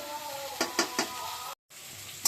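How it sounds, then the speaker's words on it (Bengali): Potato, onion and flat beans frying together in a pan give a steady, close sizzle, broken by a few sharp stirring knocks and one brief cut to silence. "এবার পেঁয়াজ, আলু, শিম একটু ভাজা ভাজা হবে।"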